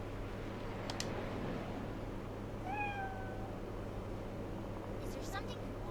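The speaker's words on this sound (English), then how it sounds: "Oh my god, the kitty cat shows up." A cat meows in the video game Cyberpunk, a single short rising-then-falling meow near the middle, heard over a steady low game ambience with brief faint clicks.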